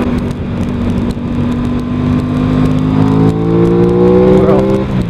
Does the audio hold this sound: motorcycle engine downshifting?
yes